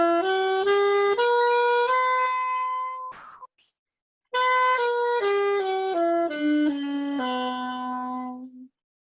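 A harmonic minor scale with a raised seventh, played in a bebop improvisation lesson, runs stepwise up in clear, sustained single notes, pauses briefly, then descends back down at a moderate, even pace, close and alone.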